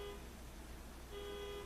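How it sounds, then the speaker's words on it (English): A car horn sounds outside, a faint, steady honk heard at a distance, breaking off briefly and then resuming over a quiet indoor room. "Who the heck is honking?"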